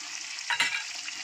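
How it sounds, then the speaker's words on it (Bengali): Chicken and mushrooms lightly frying in a pan give a soft, steady sizzle, with one brief louder stir or scrape near the middle. "হালকা ফ্রাই করব।"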